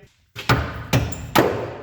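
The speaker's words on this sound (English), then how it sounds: "let me get a hammer" A hammer strikes stuck bolts during the teardown of a Chevrolet Monza project car in a garage, three loud, sharp metallic blows about half a second apart, close by and alone after a moment of silence.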